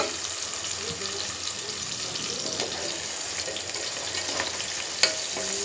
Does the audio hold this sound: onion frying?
yes